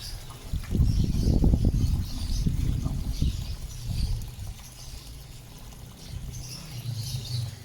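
Water rushes and trickles into an aquaponics tank in a garden, a close, gurgling pour that is strongest early and then settles into a softer, steady flow.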